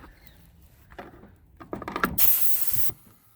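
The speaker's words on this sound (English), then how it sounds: "And now we're blowing the line out." Compressed air from a small compressor's hose blasting through an underground water line being winterized, a loud steady hissing rush lasting under a second after some clanks and handling noises.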